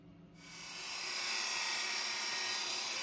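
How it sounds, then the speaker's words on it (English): A 6061 T6 aluminum L angle for an aircraft antenna bracket is cut or ground by a power tool that starts up, ramps up over a second and holds a steady, loud, high whine, close with no talk. "Cutting it to length and grinding it smooth."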